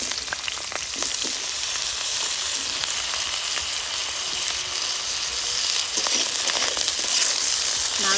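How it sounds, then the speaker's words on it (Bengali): Cut potatoes fry in about two spoons of hot mustard oil in a wok, making a continuous close sizzle with occasional faint stirring clicks. "নাড়াচাড়া করে আলুটা ভাজা ভাজা করে নেব।"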